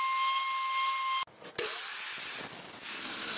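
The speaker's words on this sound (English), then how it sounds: "Router both face edges with a 1/4 inch roundover bit." A router fitted with a 1/4 inch roundover bit shapes the face edges of wooden planks, a steady high-pitched whine cut by a brief drop around the midpoint before the cutting roar resumes close and loud.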